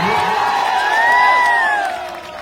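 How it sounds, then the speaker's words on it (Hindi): Crowd at a live stage show cheering loudly with sustained whoops and shouts, a continuous roar close to the microphone that swells and then eases; clapping is not clearly distinct. "जोरदार ताली बजा के आप सपोर्ट करिए"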